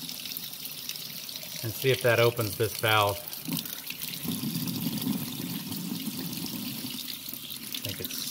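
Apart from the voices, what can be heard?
hot water running from kitchen sink tap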